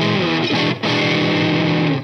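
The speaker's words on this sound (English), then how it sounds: "But also some beautiful single coil tones." An electric guitar with HSH pickups plays a sustained, loud, distorted chord on a single coil setting, ringing continuously with a brief dip in the middle.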